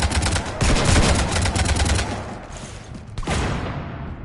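Rapid gunfire shooting up a ship in the Mass Effect video game, loud and close, with dense bursts of automatic shots that pause briefly and then resume.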